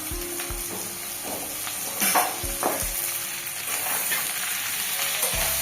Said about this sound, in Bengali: ডাঁটাটা 5 মিনিট ভেজে নেব পেঁয়াজের সাথে।